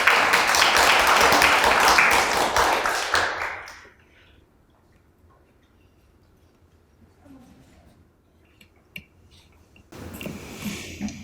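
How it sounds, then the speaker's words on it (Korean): A seated audience at a National Assembly education forum claps loudly for about three seconds, then the applause dies away into a near-silent room before another burst of noise rises at the very end. "큰 박수로 맞이해 주십시오"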